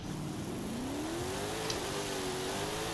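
An MG XPower car engine in Forza Horizon 5 hums and climbs in pitch as it revs up, then holds a steady drone. The sound is moderately loud with no talking.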